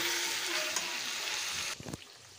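Mutton and potato pieces frying in oil in a pot, a loud, dense, close sizzle that holds steady, then abruptly drops to a quieter hiss after a brief stirring scrape, with nobody speaking.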